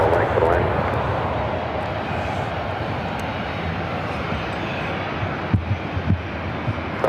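A heavy Boeing 787 Dreamliner lands on runway 24 right at LAX. Continuous loud jet engine roar fills the whole stretch, with a few sharp knocks near the end.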